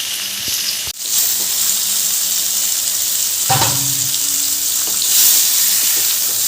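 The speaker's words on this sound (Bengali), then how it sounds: "কুমড়োগুলো ভালো করে ভেজে নেব একটু লাল লাল করে ভাজতে হবে" Pumpkin pieces shallow-frying in oil in a wok give a steady, loud sizzling hiss throughout, with a brief clatter near the start and a short stir partway through.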